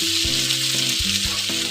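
Chopped onion with chopped ginger and garlic sizzles loudly and continuously in a hot pan, a dense frying hiss with a few faint stirring knocks and no talking.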